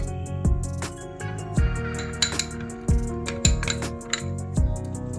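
A spoon clinks repeatedly against a bowl while stirring boiled milk into powdered milk, a run of sharp, close metallic taps with ringing tones, in a home kitchen preparing laccha semai.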